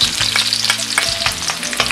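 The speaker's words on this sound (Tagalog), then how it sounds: "Magpainit naman tayo ngayon ng mantika sa kawali. Lagay natin ang mga ginayat na pinong sibuyas" Finely chopped onions and garlic fry in hot oil in a pan for Bicol Express, a loud close sizzle with quick scraping and tapping of a stirring utensil, no voices.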